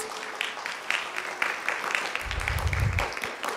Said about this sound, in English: We get a round of applause